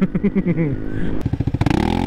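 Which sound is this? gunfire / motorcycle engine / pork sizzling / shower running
motorcycle engine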